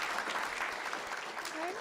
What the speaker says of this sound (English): let's give our students from Herf Elementary a round of applause.